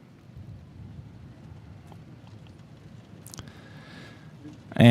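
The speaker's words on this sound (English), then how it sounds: "As the rain comes pouring down here" Heavy rain pours steadily over a baseball field during a Diamond Prospects Palmetto Games showcase, a broad, even hiss that holds for several seconds before a sudden loud burst at the very end.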